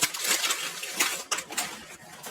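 Dry spaghetti snapped inside its plastic bag in a home kitchen, a few quiet, sharp crackling bursts with crinkling in between, close up and with no speech.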